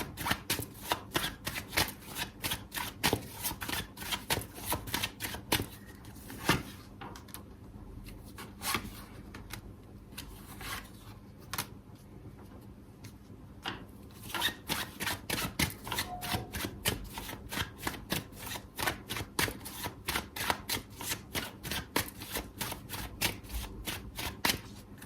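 Tarot cards shuffled continuously at close range, a steady run of crisp riffling flutters with brief pauses, no voices.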